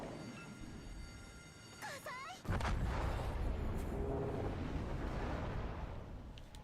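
The Japanese battleship Kongo fires its main guns in World of Warships: Legends, a sudden heavy booming salvo that rolls into a long loud rumble, after a brief squeal and faint game sounds.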